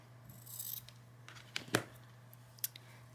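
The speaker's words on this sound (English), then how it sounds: "grab a pair of scissors and trim off the corners" Scissors snip off the corners of sewn fabric for a patchwork Christmas tree ornament: a few quiet, sharp cuts spread out over a faint steady hum.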